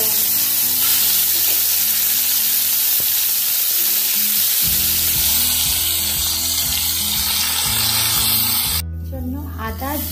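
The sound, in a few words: snakehead fish frying in oil in a wok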